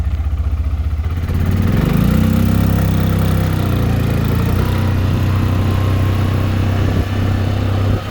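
A carbureted Linhai 320 or 300 ATV in low range gear tows a trailer loaded to 1800 kg, its engine chugging near idle with a steady, loud, close rumble that rises slightly in pitch and holds.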